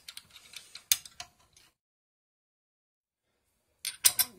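Metal parts of a KitchenAid food grinder attachment clicking and clacking as it is assembled and the blade slipped in, a close series of small ticks and knocks, then a pause of silence and a final pair of sharp clicks.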